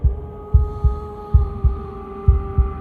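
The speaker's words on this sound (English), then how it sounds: "a wooden and fleshy heart beating with an unbroken rhythm" A wooden, fleshy heart beats in the eerie game Slay the Princess, its deep, heavy thumps landing in paired pulses at a steady, unbroken rhythm over a low sustained hum.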